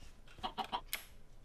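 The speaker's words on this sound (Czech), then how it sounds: "Slyším slepice" Chickens in Minecraft give a short run of soft clucks, three quick clucks followed by a sharper squawk, faint and alone without speech.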